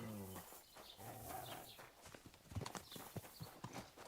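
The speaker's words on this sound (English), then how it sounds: "Horsey." A horse in Kingdom Come: Deliverance 2 clops along with irregular, close hoof strikes that grow sharper in the second half. The sound is quiet and sits over faint background sounds, with no clear speech.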